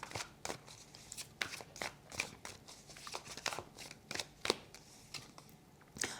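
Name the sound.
tarot cards being drawn and handled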